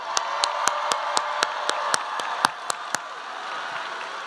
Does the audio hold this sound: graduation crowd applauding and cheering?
yes